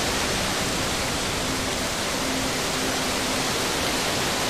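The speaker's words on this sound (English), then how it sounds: "Wow, that waterfall is loud." A loud, steady rush of falling water from a waterfall in the game Grow Home fills the scene, a dense broadband roar with no breaks, close and constant.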